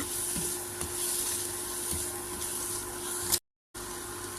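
Singi fish frying in a pan, a steady close sizzle with occasional soft stirring taps and a brief dropout near the end, no talking.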